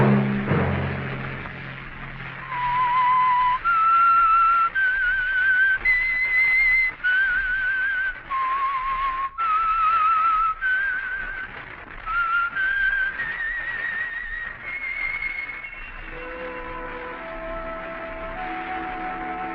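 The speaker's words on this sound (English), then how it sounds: "Let that whistle be your signal for the Signal Oil program, The Whistler" Signature tune of The Whistler radio drama, whistled solo as a slow, eerie melody of sustained rising and falling notes, clear and close, closing over soft orchestral backing from an old radio broadcast.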